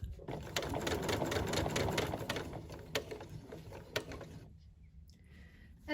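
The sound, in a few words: sewing machine stitching pants seam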